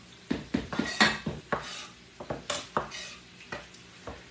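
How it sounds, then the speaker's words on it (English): Spoon or spatula clanking and scraping inside a pot as onion goes in with baked beans, a dozen or so sharp metal knocks in an irregular rhythm, close and fairly loud, with a faint sizzle beneath and no talking. "Into the pot goes this onion."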